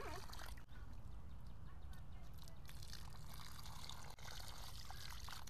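Water is poured onto a newly planted Chupa chupa (Quararibea cordata) seedling, giving a soft, steady trickling wash that stays faint and close throughout.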